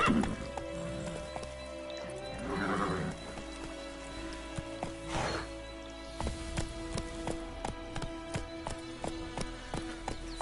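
Roach the horse gallops in The Witcher 3 with quick clip-clop hoofbeats that grow more regular, a neigh near the start and a soft whoosh of movement partway through.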